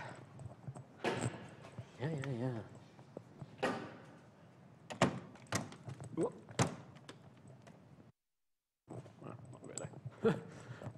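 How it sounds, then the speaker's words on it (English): A door in a lecture room is pushed shut, giving a few dull thuds and clicks in a quiet room, with a voice talking briefly around them. "Let me close the door."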